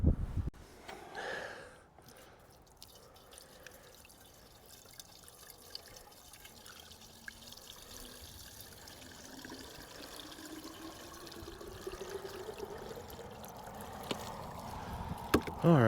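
Water poured into a Honda GX200 water pump to prime it, a close, steady splashing and trickling that runs continuously, with a few clunks and a louder gush near the end.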